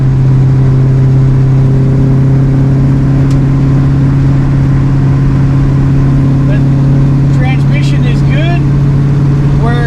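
An LS-swapped Dodge Dakota cruises on the road locked in fourth gear at about 61 mph, with a loud steady low engine drone and some road noise under it, while someone talks over it throughout.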